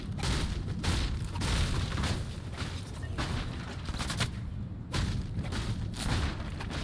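Dense, continuous gunfire from the video game Fortnite: overlapping booming shots and rapid bursts that keep up loud throughout.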